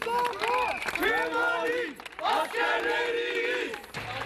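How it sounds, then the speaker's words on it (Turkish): Outside a courthouse, a crowd chants slogans in loud rhythmic unison, with claps and cheers mixed into the chanting and brief pauses between phrases. "Alkışlar ve sloganlar eşliğinde giriş yaptı adliyeye."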